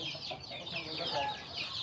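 Farm chickens, part of a flock of about 400 birds with chicks, cluck and chatter continuously at moderate distance during feeding.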